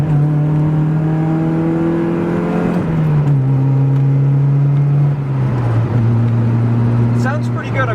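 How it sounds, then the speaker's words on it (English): A Mazda Miata with a CorkSport catback exhaust and 1.6 X-Force headers downshifts from fifth to third, heard from inside the cabin: a steady droning engine tone drops in pitch, swells in revs with each shift, and stays loud and continuous throughout. "we're going to do a couple of quick downshifts here. I'm in fifth gear right now, so we're going to go to fourth"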